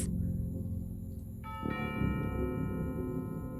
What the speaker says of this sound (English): You'd better ring the doorbell to let them know you're here.